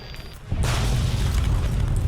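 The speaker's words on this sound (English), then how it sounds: "Well, that was quite the explosion." A Giant Robo-Scorpion blows up in Fallout: New Vegas, a sudden loud booming blast that bursts in after a quiet half-second and rolls on as a heavy, sustained low rumble with no talk.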